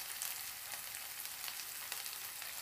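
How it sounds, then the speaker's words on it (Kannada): Homemade Schezwan sauce fries in oil in a pan, a continuous soft, hissing sizzle with fine crackle, fairly quiet and steady, with no voices. "ನೋಡಿ ಸೈಡಲ್ಲೆಲ್ಲ ಎಣ್ಣೆ ಬಿಟ್ಕೊಳ್ತಾ ಇದೆ. ಇಷ್ಟು ಪರ್ಫೆಕ್ಟಾಗಿ ಇದು ಫ್ರೈ ಆಗಬೇಕು."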